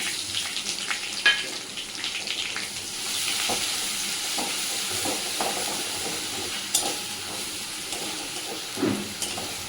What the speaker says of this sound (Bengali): এবার এর মধ্যে আমি দিয়ে দিলাম রসুন বাটা।